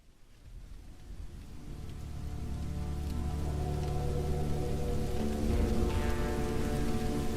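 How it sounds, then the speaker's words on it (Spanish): Steady rain falling onto the ground, rising from a faint patter to a dense, even hiss within the first few seconds and then continuing unbroken, with no talking. "El sonido de la lluvia cayendo sobre su cuerpo y golpeando la tierra la trajo de vuelta a la conciencia."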